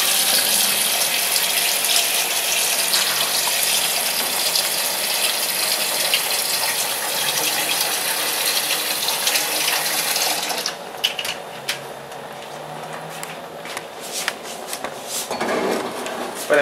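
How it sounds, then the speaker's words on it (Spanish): Tap water gushes steadily and loudly into a small cooking pot for several seconds, then cuts off, leaving quieter kitchen clatter and handling sounds. "Vamos a poner a preparar la cantidad de agua en la ollita"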